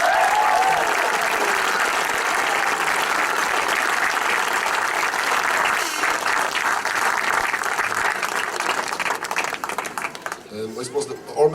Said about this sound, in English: the backroom team definitely deserve a round of applause